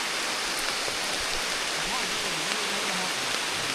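Rain falls in the forest during a hunt, a constant soft hiss of drops on foliage, fairly faint and unbroken, with faint low sounds underneath.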